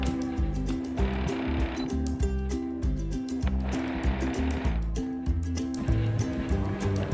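A sewing machine runs a fold-over double stitch on a kurti, its motor chattering in a steady mechanical rhythm with slight surges, fairly close and loud.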